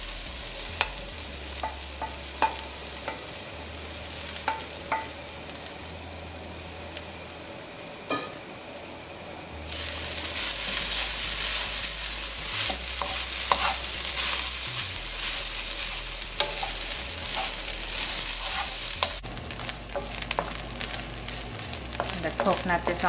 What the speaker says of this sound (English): first I have grated coconut here, which I'm going to roast or patch